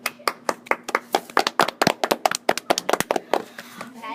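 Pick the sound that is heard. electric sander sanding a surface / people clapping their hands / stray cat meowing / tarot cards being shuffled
people clapping their hands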